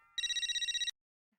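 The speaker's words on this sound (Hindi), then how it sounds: "हाँ, अंजलि भाभी को फोन करता हूँ।" A telephone rings in an Indian TV sitcom, a single short burst of bright, rapidly pulsing electronic trills, close and clear, then silence.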